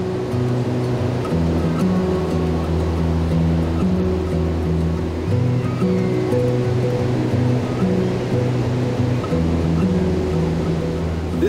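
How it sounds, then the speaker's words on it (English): Ocean waves at La Jolla Beach in San Diego, a steady roaring wash of surf with no voices, holding an even level throughout. "At La Jolla Beach, surfers take to the waters with excitement as the waves pick up"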